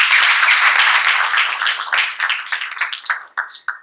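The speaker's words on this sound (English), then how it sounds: "So please give our design team a round of applause" Audience applause for a design team at a real estate development presentation, loud dense clapping that thins into scattered claps and tapers off near the end.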